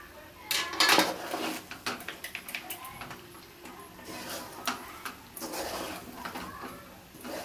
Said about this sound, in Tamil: இது எல்லாத்தையும் அப்படியே நம்ம நல்லா மிக்ஸ் பண்ணி விட்டுக்க போகிறோம்